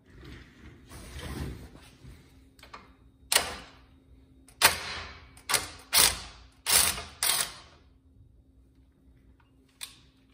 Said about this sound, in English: it's a 17mm. This is how I have mine set up. I'm gonna go ahead and loosen it up now.